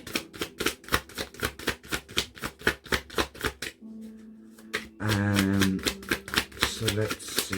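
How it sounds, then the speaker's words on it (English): A deck of tarot cards is shuffled in quick, crisp riffles that snap in a fast, even rhythm for several seconds. A pause follows, then a held tonal voice or music. "I hope the cards aren't too loud, the shuffling noise."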